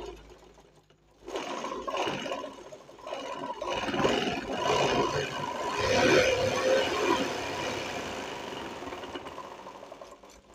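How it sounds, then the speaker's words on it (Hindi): A sewing machine runs straight stitches through thick, layered cloth, starting abruptly after a second of near silence, then whirring steadily and close with a rapid mechanical chatter that swells and eases for about ten seconds. "ये अभी सीधा सिलाई चला रहे थे"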